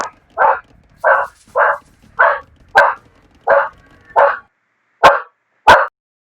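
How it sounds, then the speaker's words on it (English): A dog barks at a knock on the door, ten sharp barks in a steady rhythm, close and loud against a quiet room, with no talking. "My dog goes ballistic whenever someone knocks on our door."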